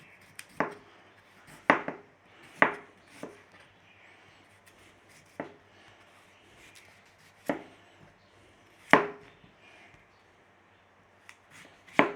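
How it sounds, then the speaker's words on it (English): A knife cuts small swede into cubes for boiling with potatoes, landing in single crisp chops against a board at irregular intervals of one to two seconds, close and clear in a quiet kitchen. "And all we have to be doing is cubing it up for boiling with our potatoes."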